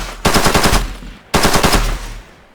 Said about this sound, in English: as you can see, we have a weapon hooked up that actually fires